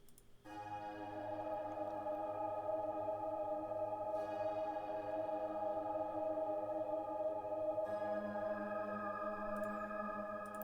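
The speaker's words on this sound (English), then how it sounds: "we're going to hear it with the reverb. It's going to sound atmospheric." A sustained, airy synth pad with lush reverb holds steady, soft chord tones shifting once or twice and washing out into a spacious tail.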